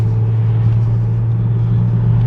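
Steady low engine drone from a 2022 Audi S5 Sportback under way, a loud constant hum heard from inside the cabin, with no clear rise in revs across the short stretch.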